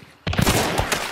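A single sharp gunshot from the video game Hunt: Showdown bursts in after a brief quiet moment and rings out loudly before its echo trails away.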